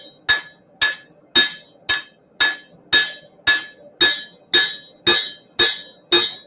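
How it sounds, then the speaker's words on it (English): A hammer strikes a knife blade on an anvil during forging, a dozen bright ringing metallic blows in an even rhythm, loud and close with no talk. "So even though I'm forging further down the edge, the ricasso is always going to be off the anvil."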